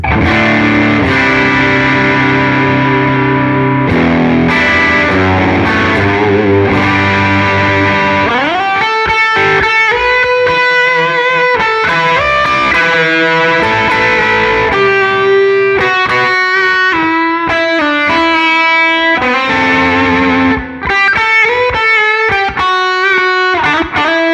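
Heavily overdriven electric guitar through stacked Minotaur and Timmy overdrive pedals, playing loud sustained chords and single-note lines with thick, saturated distortion.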